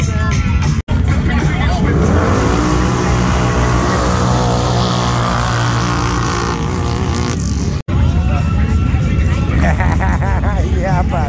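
A dirt bike engine revs hard and rises in pitch while trailing a Can-Am off-road vehicle, a loud sustained roar with brief cutouts, as riders talk over the noise.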